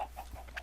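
Chickens clucking on a farm in modded Minecraft, a short faint burst of a couple of soft clucks over a steady low background hum.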